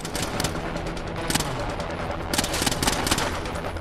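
Rapid automatic gunfire bursts from the Splinter Cell Blacklist video game, loud and dense, with sharp repeated shots clustered near the start and again in the second half, continuous combat noise between.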